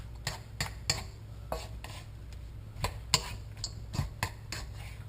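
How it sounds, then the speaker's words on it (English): Mushrooms and chopped onion are stirred in oil in a wok with a metal utensil, giving a string of close, sharp scrapes and clinks against the pan over a faint sizzle. "Just kind of stir this around the wok a bit"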